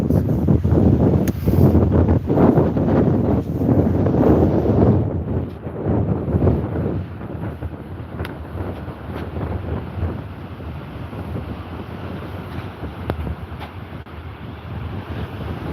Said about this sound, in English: it is a bit blowy now